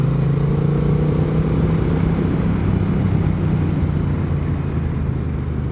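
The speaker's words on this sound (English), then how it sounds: "can we take a second and just listen to the exhaust note from the Kaufmans?" A motorcycle fitted with a Kaufmann aftermarket exhaust holds a deep, steady rumbling exhaust note, loud and near, with no talking over it.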